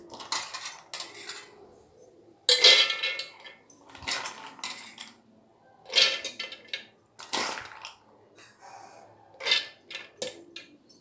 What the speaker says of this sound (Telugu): సో ఇప్పుడు మనం ఒక మిక్సీ జార్ తీసేసుకుందాం.